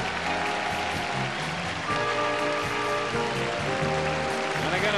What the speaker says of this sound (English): And again a big cheer for Miss Israel.